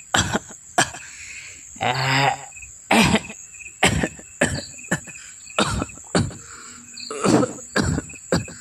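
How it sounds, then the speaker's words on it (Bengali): A man coughs repeatedly in short, dry bursts and clears his throat, fairly close, against a steady background of chirping crickets at night on a railway station veranda. "খুক খুক করে কাশতে কাশতে ঘরের বারান্দায় এলো"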